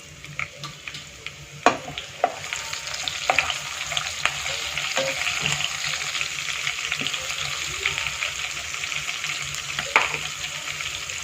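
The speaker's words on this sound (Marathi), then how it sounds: "आपलं तेल तापलेलं आहे। आपण जिरं, मिरची, कढीपत्ता हे सगळं एकत्रच घालणार आहे।" Cumin, green chilies and curry leaves dropped into hot oil for sabudana khichdi, giving a loud continuous crackling sizzle with scattered pops and a few utensil clinks near the start, no voices.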